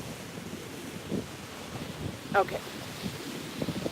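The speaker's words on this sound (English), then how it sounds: "The wind isn't helping either" Wind buffets a microphone outdoors during a knitting session, a steady low rumble and hiss running throughout, with a brief spoken word partway through.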